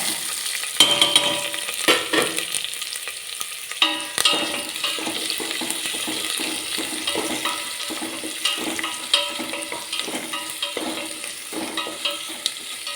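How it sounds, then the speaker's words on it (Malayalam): Chopped onion with green chilli fries in hot oil in a pan for a green peas curry, a constant close sizzle broken by scraping stir strokes throughout. "നമുക്കിതൊന്ന് മൂപ്പിച്ചെടുക്കാം ഉള്ളി അരിഞ്ഞത് ചേർത്ത് കൊടുക്കാം"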